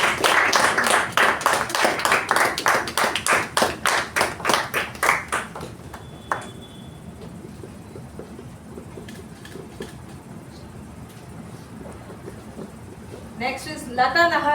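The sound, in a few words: applause for Toastmaster level completion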